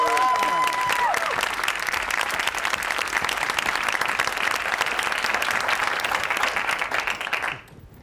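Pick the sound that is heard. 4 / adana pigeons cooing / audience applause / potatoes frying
audience applause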